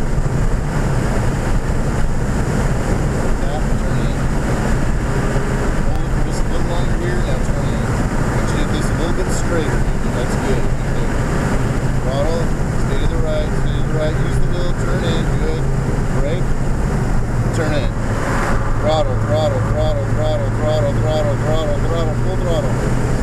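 An Audi's engine is held at full throttle on the VIR race track during a track-day session, a steady droning roar heard from inside the car under heavy wind buffeting. People talk over it throughout.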